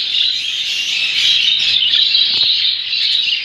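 Three young Hagoromo budgerigar chicks with feathers still coming in chirp in a dense, continuous high twittering, near and steady throughout with no voices.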